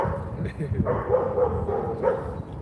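A dog barks and yips in a string of short, close calls, with someone talking over and between the barks.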